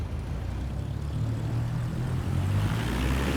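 Steady propeller aircraft engine drone in Microsoft Flight Simulator 24 on the runway at takeoff with flaps set to 10, a continuous hum that swells slightly as power builds.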